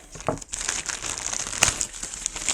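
Unwrapping the packaging of an Eken H9 Ultra 4K action camera bought from AliExpress: close, continuous crinkling and rustling of plastic and paper, with a few sharper crackles, and no talking.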